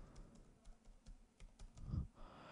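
Faint, irregular keystrokes on a computer keyboard as a phone number is typed in, soft clicks spaced unevenly over a quiet room hum.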